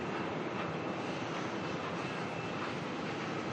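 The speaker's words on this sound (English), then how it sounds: "Qantas coming in there, QF 627 from Brisbane." A Qantas airliner on flight QF627 from Brisbane arrives at Melbourne Airport, its engines giving a constant broadband roar throughout the short stretch, with no voices over it.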